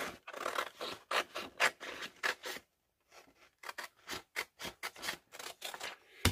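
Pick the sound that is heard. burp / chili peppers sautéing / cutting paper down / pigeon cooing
cutting paper down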